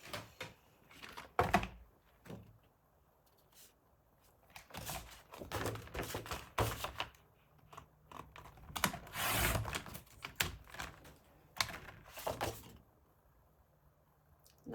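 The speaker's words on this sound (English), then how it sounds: "Okay, paper trimmer." A paper trimmer cuts paper for assembling a handmade album: a series of irregular sharp clicks, slides and thumps of the blade and sheets, close and moderately loud, with quiet pauses and no talk.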